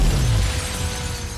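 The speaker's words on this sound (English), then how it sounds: "And goes blowing out this window, jumps through the air across to the next tower." A car bursts out through a skyscraper's big glass window in a Fast & Furious 7 action scene set in the Dubai towers, a loud low crashing impact that decays into a sustained rumbling wash.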